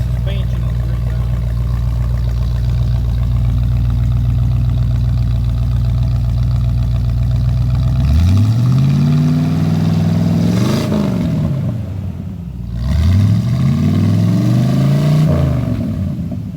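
A 1984 Chevrolet Silverado pickup with a Flowmaster exhaust idles with a deep, steady rumble, then is revved twice, each rev rising and falling in pitch, with a short dip between them, loud and close.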